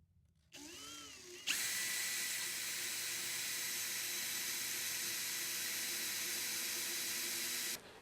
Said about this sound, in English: So I'm going to see if I can drill one of them out and see if there's a screw underneath.